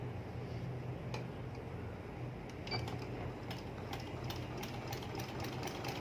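A sewing machine stitches ladies' trousers with a low, even motor whir and a rapid series of light mechanical ticks, fairly faint and heard alone.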